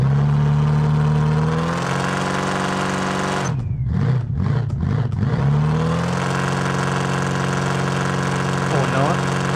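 A sand drag car built for a desert dune map in BeamNG Drive idles with a steady engine drone, then revs sharply in several rising and falling bursts before settling back to idle, loud and close.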